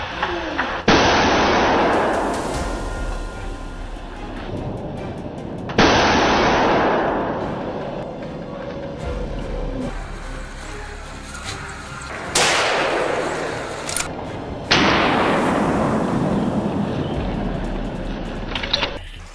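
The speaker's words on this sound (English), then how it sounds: "gunfire erupted from all directions" Rifle shots during a wild boar hunt in a snowy forest: several loud, sharp blasts at irregular intervals, each followed by a long rolling echo.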